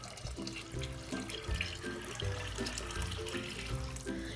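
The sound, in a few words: water poured into cooking pot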